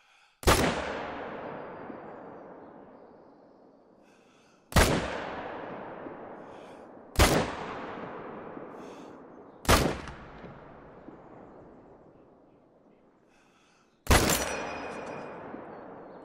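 Five sharp gunshots fire at irregular intervals in the hunting video game The Hunter: Call of the Wild, each a loud crack with a lingering reverberant decay across open terrain.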